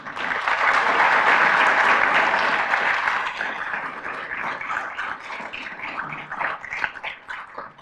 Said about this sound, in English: Could you please give them an applause?